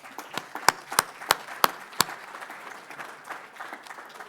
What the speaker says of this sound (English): Big round of applause for Pivotal also.